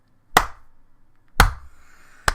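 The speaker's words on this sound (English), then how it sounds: "Slow clap." A slow clap: three sharp, isolated hand claps about a second apart, close and clear against near silence.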